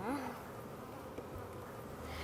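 Honey bees buzzing around hive frames during a colony inspection, a steady dense drone from many insects close by, with no talk over it.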